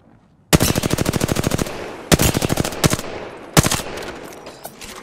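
Automatic gunfire in the video game Apex Legends, heard as three rapid bursts of loud, close shots, the first one longest, with no talking.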